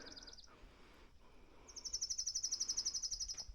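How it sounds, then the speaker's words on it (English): Small birds chirp in quick repeated bursts on the Appalachian Trail, a short call at first and then a longer rapid trill, fairly faint against a quiet outdoor background. "Listen to the birds."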